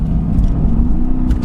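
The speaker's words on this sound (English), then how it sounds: "this, ladies and gentlemen, is the Mercedes-Benz AMG GTS Edition 1" Mercedes-AMG GT S Edition 1 supercar engine running steadily at close range, a deep continuous rumble with a sustained low tone and no speech over it.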